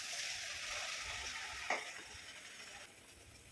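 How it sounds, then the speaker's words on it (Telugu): Coconut puris deep frying in hot oil give a quiet, continuous bubbling hiss with one brief splash or knock midway, alone with no speech. "ఫ్రై చేసుకుందాం, డీప్ ఫ్రై."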